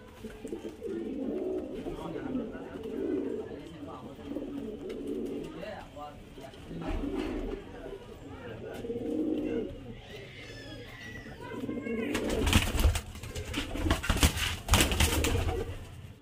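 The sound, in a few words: Giribaz high-flyer pigeons cooing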